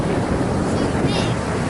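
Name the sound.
big ocean waves crashing on a beach in Cyprus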